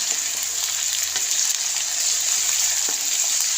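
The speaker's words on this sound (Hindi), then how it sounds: "अदरक और लहसुन को अच्छी तरह भून लेंगे।" Ginger and garlic paste fries in a pot with a loud, continuous close-up sizzle, a steady hiss with small pops and crackles throughout.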